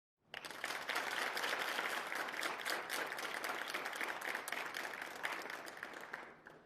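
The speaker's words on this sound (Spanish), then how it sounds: "Ese aplauso fue atronador." Thunderous audience applause at a religious gathering after a talk: dense, continuous clapping from a large crowd that swells in abruptly, holds strong and even for several seconds, then tapers off at the end.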